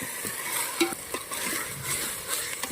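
Onion with turmeric, salt and ground green chilli is stirred in a pan, a quiet steady sizzle under soft scraping strokes and a few light spoon taps.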